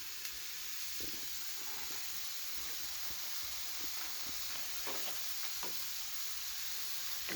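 A meat mixture and onions for unstuffed cabbage rolls sizzle in a pan, a steady quiet hiss of frying with occasional light clicks of stirring.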